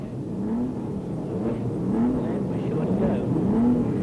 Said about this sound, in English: Cranky motors are brought to life as the starter is almost ready to send the first of 34 cars away